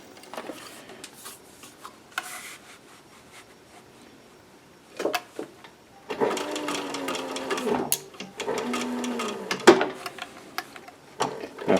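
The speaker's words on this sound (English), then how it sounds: "Now if you have a sewing machine that's using just regular thread that breaks easy" A sewing machine stitches fabric for a cloth mask in short bursts, starting and stopping, with a longer steady run near the end and faint clicks between.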